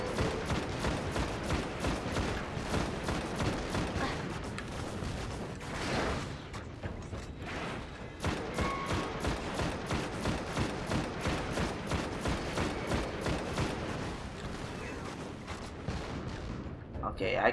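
Gunfire aimed at an enemy in the sci-fi shooter Destiny during a Venus patrol, a rapid, rhythmic stream of sharp shots that keeps going, with only short pauses.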